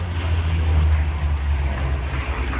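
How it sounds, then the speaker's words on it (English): A Vought F4U Corsair comes in to land with its large flaps down, its heavy piston engine droning as a loud, steady low rumble close by, with a voice faintly under it. "Landing the Corsair, look at these big, huge flaps."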